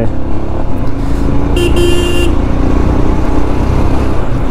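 Royal Enfield Scram 411 motorcycle makes a loud, close, continuous engine rumble, with a short horn toot sounding midway.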